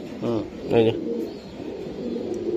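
Racing pigeons in a loft give a few low, throaty coos near the start, with a person talking over the birds.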